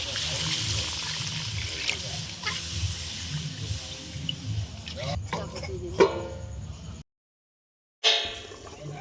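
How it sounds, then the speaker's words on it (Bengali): Water is poured into a pan of chicken simmering in browned spice masala, a steady trickling pour running for several seconds, then a brief gap and one more short splash. "আমাদের চিকেনটা ভালোভাবে কষানো হয়ে গেছে, জল দিয়ে দিলাম।"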